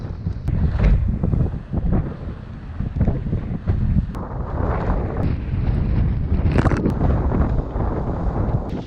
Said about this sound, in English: Here we are, beautiful, sailing close reaching 10 to 11 knots.